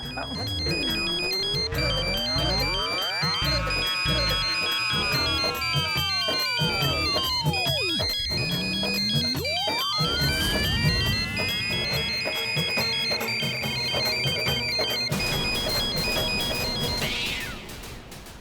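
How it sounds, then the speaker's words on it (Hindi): Mobile phone ringtone playing loudly and continuously, a busy electronic melody with sweeping, gliding tones and layered beeps, running for many seconds before it stops abruptly near the end. "बज गई इस फोन की घंटी"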